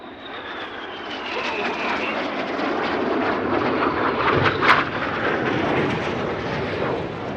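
Red Arrows jets in formation pass over the Sywell 2024 air show with a loud, sustained broadband roar and a faint descending whine, swelling slightly mid-pass before holding steady.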